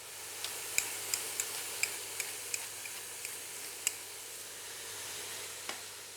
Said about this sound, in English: Keep stirring it, moving it around.